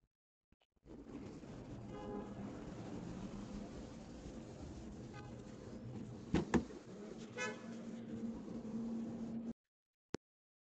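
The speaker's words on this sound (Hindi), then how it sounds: "लॉक करेंगे सिंगल हॉर्न, अनलॉक करेंगे डबल हॉर्न।" A Hyundai Creta's horn gives short toots as the car is locked and unlocked with the key, two brief bursts close together over a steady background hum.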